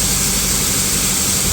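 Farm tractor engine idling while holding up a grain wagon to keep it from tipping, a steady, loud low rumble that runs the full length without a break.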